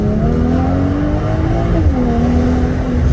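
A car fitted with aftermarket downpipes runs in sport mode, its engine droning loud and steady up close with a slight rise and dip in pitch, no voices heard.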